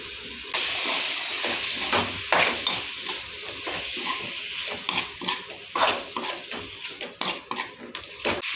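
Washed quail pieces dropped into a kadai pan, giving repeated wet clinks and clatters of metal against metal with splashy, watery handling sounds at an uneven rhythm, close by and fairly loud.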